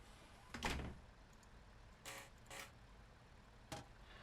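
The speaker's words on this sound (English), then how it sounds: "and then close the door." Train door closing in the Train Sim World 4 game on the Blackpool Branches route, heard as a few separate mechanical thunks and slides spread across a quiet background, fairly faint.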